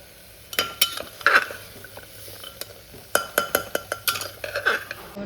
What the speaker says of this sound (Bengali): প্রেশার কুকারে এবার জাস্ট একটু কষাবো